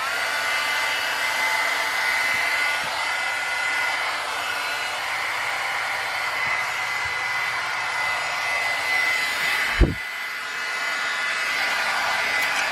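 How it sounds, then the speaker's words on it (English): A heat tool for melting embossing powder blows with a constant airy roar like a hair dryer, close and steady, interrupted once by a brief low thump before the hiss resumes. "I have a heat tool here. I'm going to warm it up real quick so it'll melt faster."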